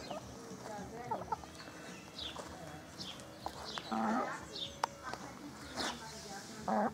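Chickens on a small farm cluck and chatter in short, scattered calls at moderate distance, with a few sharper squawks rising over a steady outdoor background.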